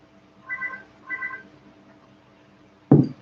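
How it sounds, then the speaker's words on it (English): A mobile phone rings indoors with two short, bright electronic trill bursts about half a second apart, followed by a sharp knock or thump near the end. "my phone always seems to ring when I come on here"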